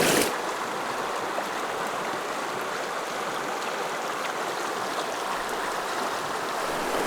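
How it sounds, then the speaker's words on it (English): A deep river rapid in the Bighorn Mountains rushes past a boulder, a loud, steady broadband roar of flowing water that continues unbroken from start to finish. "Nice, pretty deep rapid coming through here."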